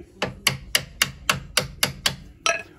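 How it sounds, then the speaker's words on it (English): Nine sharp metallic taps from a hammer on a bolt end fitted with a nut, on the rear suspension arm of a 2004 MG ZT-T, in a steady, even rhythm, close and loud, the last one slightly heavier. "screw a nut back on the thread, and then you can tap it"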